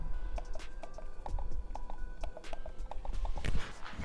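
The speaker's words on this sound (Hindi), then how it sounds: "मैं आपकी क्लिक की साउंड सुनाने की कोशिश करूंगा।" Quiet clicks from a Logitech MX Master 3S mouse, a scatter of soft, muted taps close by in an irregular rhythm over steady background hiss.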